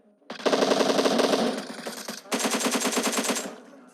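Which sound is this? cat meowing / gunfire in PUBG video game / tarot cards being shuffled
gunfire in PUBG video game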